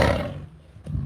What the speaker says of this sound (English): not with that growl